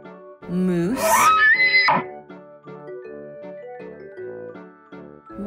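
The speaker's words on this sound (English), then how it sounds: "moose," Moose call in a forest setting, a single long, loud, rising wailing moan lasting about a second and a half, followed by soft musical tones.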